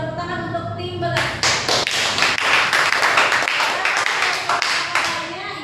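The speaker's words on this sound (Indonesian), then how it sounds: "Tepuk tangan untuk tim Bagas." A small group of students clapping in a classroom for a team after a project presentation, with sharp irregular claps starting after a moment of speech and continuing steadily to the end.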